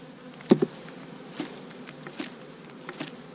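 Honey bees buzzing on a hive frame during a winter beekeeping inspection, a steady close hum with a few sharper bumps and knocks from handling the frame.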